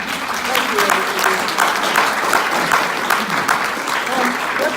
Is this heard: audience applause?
yes